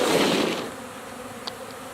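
Russian honeybees buzz inside a hive during formic acid mite treatment. A close, loud droning hum fades to a steadier, fainter buzz, with one brief click near the end.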